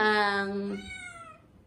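A stray cat gives a single clear, drawn-out meow, loud and close, that slides downward in pitch and fades out over under two seconds.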